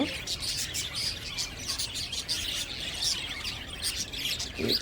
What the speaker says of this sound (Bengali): এটা হচ্ছে পাখির শব্দ